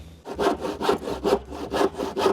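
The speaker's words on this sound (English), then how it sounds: "It's a good cut for such an old saw." An old hand saw cuts through rough, cheap wood with about five rhythmic back-and-forth rasping strokes, close and fairly loud, no talking.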